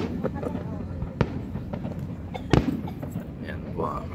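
Fireworks over Waikiki Beach: a few sharp, loud bangs pop out at intervals over a steady background of crowd noise, with people talking throughout.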